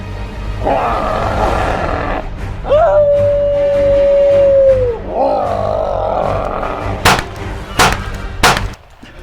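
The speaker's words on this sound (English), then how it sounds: "They are essentially headshot-resistant brutes, but aside from growling and howling, they unfortunately aren't that much fun to fight." Headshot-resistant brute enemies in Resident Evil Village give a loud roar and howl, including a long sustained tonal howl in the middle, over a game soundscape with a couple of sharp gunshot-like bangs near the end.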